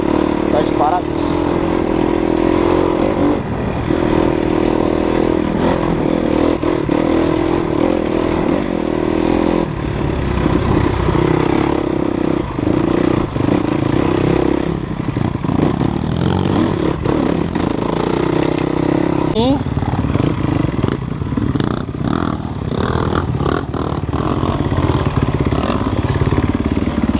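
An off-road motorcycle runs steadily during a trail ride between Diamantina and Milho Verde, its engine droning loud and continuous with changes in revving, while people talk over it.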